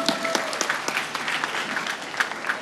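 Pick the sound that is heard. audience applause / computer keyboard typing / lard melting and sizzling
audience applause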